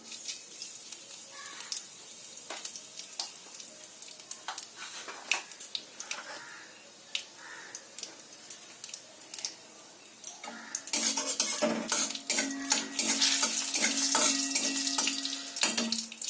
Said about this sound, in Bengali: কালো জিরে আর শুকনো লঙ্কা ভাজা হয়ে গেল